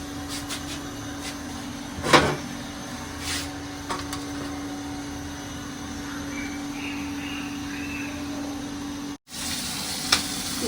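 Fish frying in a lidded pan sends up a steady, soft sizzle at close range, broken by a couple of sharp kitchen clatters and a brief moment of silence near the end.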